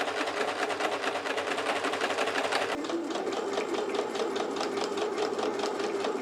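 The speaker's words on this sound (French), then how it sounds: "on va venir le fixer en faisant une double surpiqûre à partir d'ici" A sewing machine runs continuously while double topstitching a seam, giving a loud, close, rapid mechanical stitching rhythm throughout with no pauses.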